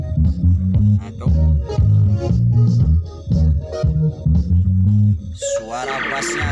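Bass-heavy music playing loud through an amplifier modified for a bass tone control, with deep, booming low end throughout and a brief burst of brighter, noisy sound near the end.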